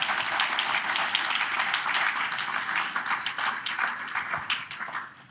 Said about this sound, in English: A quick round of applause, please, for Shad.